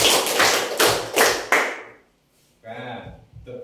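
Five sharp, evenly spaced hand claps ring out in a counted clapping exercise, each a loud broadband slap, followed after a brief pause by a person talking.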